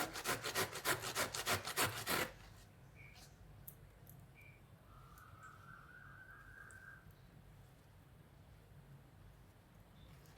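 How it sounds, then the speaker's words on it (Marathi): Fresh pumpkin is grated by hand in a home kitchen, giving about a dozen rapid, loud rasping strokes in the first two seconds, followed by quiet room tone with a faint whistle-like tone and small clicks. "असा भोपळा खिसून घेऊया आपण."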